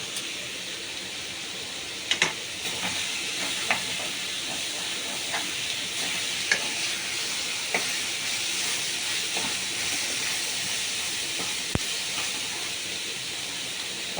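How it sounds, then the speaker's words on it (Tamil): Mushrooms sautéed and stirred in a pan for a mushroom dosa filling, giving a steady close hiss of sizzling with scattered sharp clicks and scrapes of the utensil, no voices. "இன்னும் கொஞ்சம் கூட மஷ்ரூம் போட்டுக்கலாம். நல்லா போட்டு வதக்குங்க."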